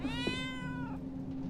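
A cat meows in The Darkest Files video game, one clear drawn-out meow near the start that fades, heard alone over a steady low hum.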